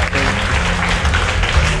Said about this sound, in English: How about a round of applause for your teams up on stage?